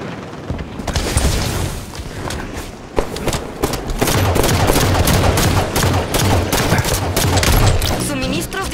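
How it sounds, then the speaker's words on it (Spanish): Rapid gunfire and explosions in a Warzone match of the video game Halo 5: Guardians on the Skirmish at Darkstar map, loud and continuous with dense bursts and booms throughout. "El enemigo está disparando."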